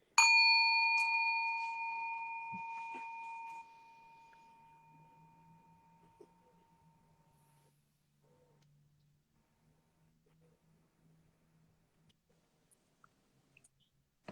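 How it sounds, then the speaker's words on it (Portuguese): A small meditation bell is struck once, giving a bright clear ring that decays slowly over several seconds into quiet, followed by a faint low hum and scattered soft clicks. "Então vamos lá. Sininho."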